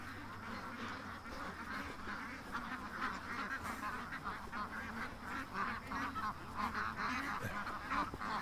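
A flock of ducks honks and quacks continuously at moderate distance, many overlapping calls over a steady outdoor background hum with no clear pauses.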